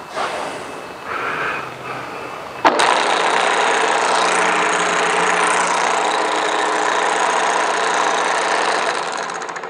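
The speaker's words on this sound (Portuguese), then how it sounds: "É claro que eu tenho que ligar a máquina agora para saber a altura que tá." A Pullmax punching and nibbling machine for sheet metal switches on with a sudden jump to a loud, steady mechanical drone that carries on unbroken after the start.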